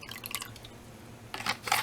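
Liquid tie dye fixative poured into a container of water, giving two short bursts of splashing and trickling near the end after a quieter stretch of faint dripping.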